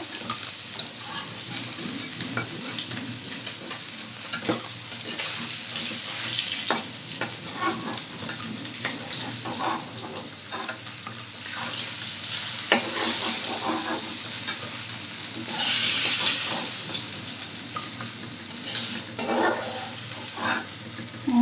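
Koi fish frying in hot oil, a steady loud sizzle with crackling bursts and occasional stirring and scraping, no talking.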